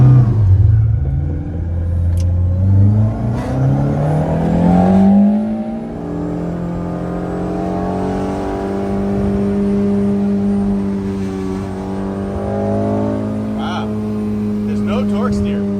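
A Honda D16y8-powered pickup truck revs up under acceleration on a test drive, its engine note rising steadily through a long pull, with a person talking over it.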